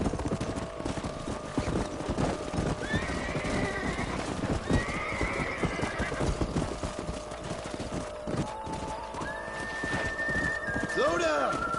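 Horses gallop with rapid rhythmic hoofbeats and let out whinnies in the PS4 game Red Dead Redemption, with loud hooves throughout and neighs rising over them.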